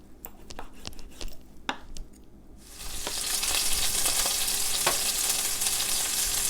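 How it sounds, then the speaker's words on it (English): Chicken pieces browning in two tablespoons of hot olive oil in a skillet on a high burner: a few light taps and clinks, then a loud, steady sizzle and crackle that fills the rest close up, with no talking. "I just want to lightly brown these on all sides"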